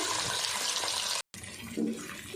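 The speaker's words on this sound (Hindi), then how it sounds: "और इसको पिघलाने के लिए हमने 1 कप दूध डाल दिया" A cup of milk pours over jaggery and rice in a steady, rushing liquid stream, broken by one brief gap before the splashing resumes and shifts in tone near the end.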